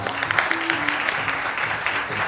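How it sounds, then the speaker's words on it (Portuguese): Audience applause in a theater for the robot Sophia during a stage show, dense clapping that keeps going for the short stretch, with a faint tone or voice underneath. "Uma salva de palmas para a Robô Sofia!"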